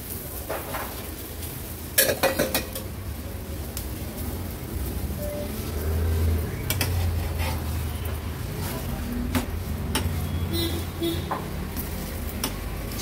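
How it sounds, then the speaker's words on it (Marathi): Parathas roast in ghee on a large griddle and get flipped, giving a soft, steady sizzle with a few clanks of the spatula against the pan, close by and without talk. "आता व्यवस्थित तूप लावून आलटून पलटून हे पराठे आपल्याला भाजून घ्यायचे"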